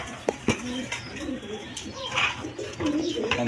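Pair of Lotan pigeons cooing in repeated soft rolling calls, fairly close, with a voice talking over them.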